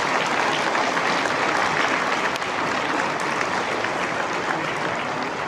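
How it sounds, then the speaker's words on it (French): An audience at an agricultural hall of fame induction ceremony in Quebec claps for the inductees, with dense, sustained applause close by and steady throughout. "Donc, une bonne main d'applaudissements pour nos intronisés qui sont présents ce soir."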